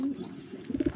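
Pigeons coo nearby in a few soft, low, throaty pulses, with a quiet call at the start and a cluster of rounded coos toward the end.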